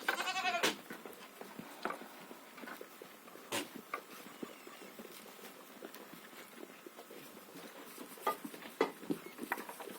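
Goats bleating intermittently nearby, a few sharp calls scattered over soft rustling and shuffling in a quiet barn-like space.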